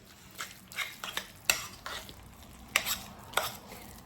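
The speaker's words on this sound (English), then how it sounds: "you think you've got it all mixed up really good" Salmon patty mixture being mixed in a Rachel Ray bowl, a wet, squelchy churning with sharp utensil knocks against the bowl at irregular intervals, close and fairly quiet.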